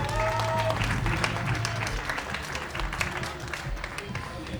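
An audience at a gathering about the Sainte-Soline protests against mega-basins applauds, with thick, continuous clapping throughout and a few voices mixed in at the start.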